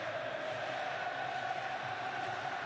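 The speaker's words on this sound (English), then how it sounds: "And the crowd trying to lift their side, and I can say that because there's so many Saudi Arabian supporters" A large crowd of Saudi Arabian supporters roars steadily at a World Cup football match against Poland, a dense continuous wash of cheering and chanting with no break.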